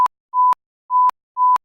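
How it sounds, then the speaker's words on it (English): A censor bleep added in editing: a pure electronic tone repeats in four short bursts with silence between them, loud and clean with nothing else audible. "It's supposed to be bleeped out in post."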